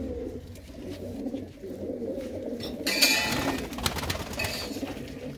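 Racing pigeons in a loft coo in a steady low murmur, several birds at once, close and continuous, with brief flutters and clatter in the second half.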